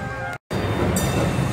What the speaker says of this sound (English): Train doing its test run.